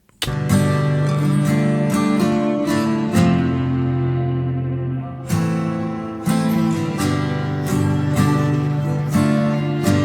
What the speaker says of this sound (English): It's just a guitar.